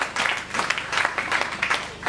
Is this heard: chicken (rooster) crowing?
no